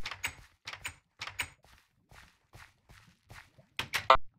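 A hidden door in modded Minecraft opens with a series of short, dry wooden clicks and taps spaced through the moment, ending in a slightly louder clack; quiet, with no talk.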